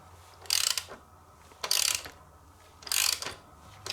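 A ratchet wrench works a tight bolt on a used Kawasaki KLR650 motorcycle, making three separate bursts of rapid clicking spaced about a second apart, close up and without talk.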